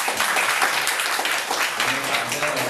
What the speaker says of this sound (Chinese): 你们掌声太稀疏了吧？